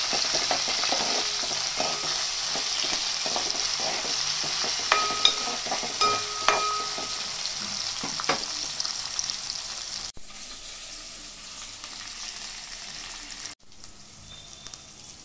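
Onions frying with chopped green chili and garlic-ginger paste for veg pulao, a steady close sizzle with stirring and scraping, cut off by brief gaps; no one talks.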